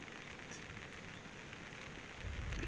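Continuous dense patter of rain falling over village farm fields, a steady wash of drops with a slight swell in loudness near the end.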